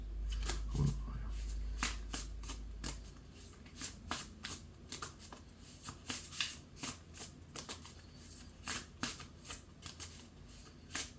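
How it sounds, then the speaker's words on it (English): Rapid riffle-shuffling of a tarot deck, bursts of crisp flutter repeating in a steady rhythm, close up, with a low hum at the start. "And it shuffles really nicely as well."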